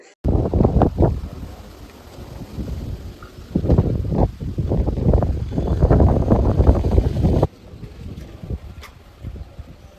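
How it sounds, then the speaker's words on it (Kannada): Strong gusts of wind buffet the microphone in loud roaring bursts outdoors during Ayudha Puja, easing briefly between them, then dropping to a softer rush. "ತುಂಬ ಜೋರಾಗಿ ಗಾಳಿ ಬೀಸ್ತಾ ಇದೆ. ನಿಮಗೂ ಕೂಡ ಶಬ್ದ ಕೇಳಿಸ್ತು ಅಂದ್ಕೊಳ್ತೀನಿ."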